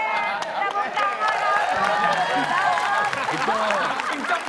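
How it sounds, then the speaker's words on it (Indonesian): An audience bursts into applause and cheering at a live Indonesian talk-show event, a dense, steady wash of clapping hands with crowd voices mixed in throughout. "Tepuk tangan."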